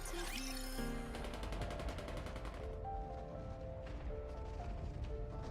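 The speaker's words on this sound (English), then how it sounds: "Gunfire rings out." Rapid bursts of gunfire in the video game Goddess of Victory: NIKKE crackle over a dense, loud backdrop of music and effects, with repeated sharp shots in quick succession during the first few seconds.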